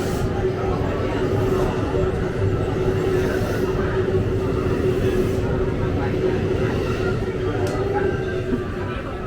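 Steady rumbling roar of a train at close range at a station platform in Osaka, Japan, a continuous loud wash of rail and engine noise with faint voices mixed in.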